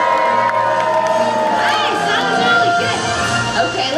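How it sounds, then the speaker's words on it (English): A large audience in the Animal Actors arena at Universal Studios cheers loudly, a dense continuous roar of many voices with children's shouts and whoops rising throughout. "I need you to cheer her on as loud as you can"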